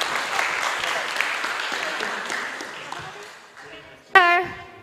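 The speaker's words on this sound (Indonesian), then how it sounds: "Tepuk tanganlah dulu." Students at a high school talk gathering in Sumenep clap their hands, a steady spread of applause running under murmured voices for about four seconds before fading, then a short bright vocal burst rings out at the end.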